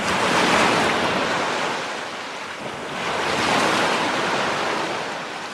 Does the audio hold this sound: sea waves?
yes